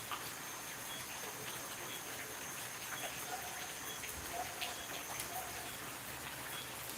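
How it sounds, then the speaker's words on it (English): Soft, steady rain patters faintly with scattered drips landing close by, quiet and continuous with no voices. "you'll be hearing some dripping and a sound. Yeah, that is the rain."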